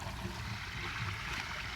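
Water from an RV black water tank rushes steadily through a drain hose at a dump station. The hiss is faint and constant, with no breaks.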